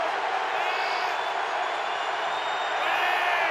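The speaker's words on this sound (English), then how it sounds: "A raucous crowd at Heinz Field tonight." A raucous football crowd at Heinz Field during a night NFL game, Ravens at Steelers, roars as a steady, dense wash of noise with faint whistles and whoops, swelling slightly near the end.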